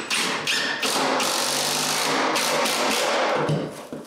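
Screws driven through a bathroom vanity base into the wall by a power driver, with loud sustained whirring broken by short pauses and a few knocks.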